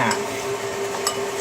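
Egg yolks being whisked in a bowl for a soufflé omelette, a steady close stirring wash with faint clinks of the utensil against the bowl and no talk.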